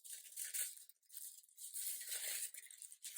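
Crafting foil being handled for card embossing, giving faint, close crinkling and soft tearing rustles in short continuous stretches with brief pauses.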